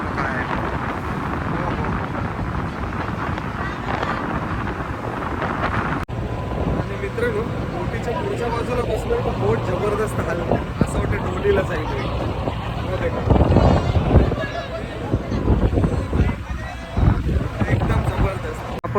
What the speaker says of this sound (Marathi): जबरदस्त एकदम वारा आहे एवढा वारा आहे तरी बोटीला काही फरक पडत नाही